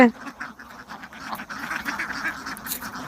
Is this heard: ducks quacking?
yes